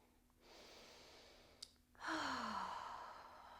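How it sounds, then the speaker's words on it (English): A breathwork practice with slow, audible breathing: a long soft inhale, then a louder sighing exhale, close and quiet with no speech. "Taking a few inhales and exhales wherever you are."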